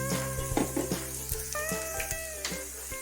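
Koorka (Chinese potato) mezhukkupuratti frying in a pan, with a steady close sizzle and a few soft stirring knocks and scrapes over a constant low hum, and no voices.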